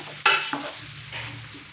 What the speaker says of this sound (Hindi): प्याज डालने के बाद अच्छे से हम इसको मिक्स करेंगे और लाइट ब्राउन होने तक हम प्याज को फ्राई करेंगे।